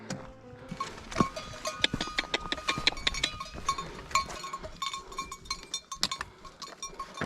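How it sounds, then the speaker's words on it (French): A herd of goats on a rocky mountain trail makes busy overlapping sounds: close bleats, clattering hooves and jingling bells come in quick irregular bursts, fairly loud and with no talk. "Ah, mais c'est des chèvres."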